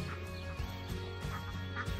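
Ducks on a farm quack softly in short repeated bursts, fairly faint, over a steady low background hum.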